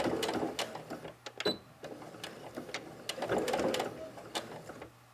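A sewing machine stitches along the zipper of a fabric pouch, a faint, uneven patter of quick needle clicks and mechanical ticks with brief pauses between runs.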